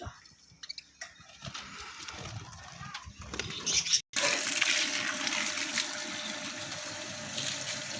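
Water poured onto rice in a kitchen to soak it before making Punjabi chana pulao, a steady, close rushing pour that starts midway and continues to the end after some handling noises.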